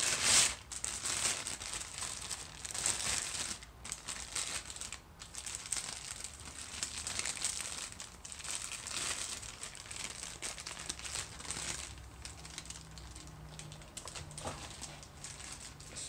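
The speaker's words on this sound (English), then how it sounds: "Move the plastic bag." Dry, irregular crinkling and rustling of plastic, close by, continuing in bursts with short pauses and a few sharper crackles.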